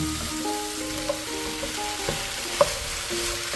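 Potatoes and pumpkin fry in a pan with a low, steady sizzle, while a few soft stirring knocks and scrapes sound close by.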